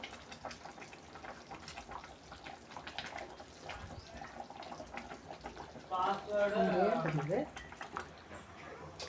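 Vavval (pomfret) fish curry bubbling at a steady boil in a pot over high flame, Trichy style with ghee, a soft continuous patter of small bursts under a person speaking nearby.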